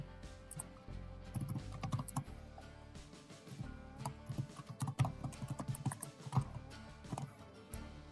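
Quick irregular keystrokes patter on a computer keyboard nearby while git commands are typed, bursts of clicks with brief pauses and no speech over them.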